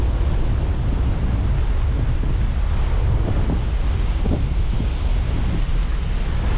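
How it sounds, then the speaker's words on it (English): Steady roar of ocean surf on Deer Island mixed with gusty wind buffeting the microphone, a constant broad wash with no voices. "Yes, can you hear the music? The ocean."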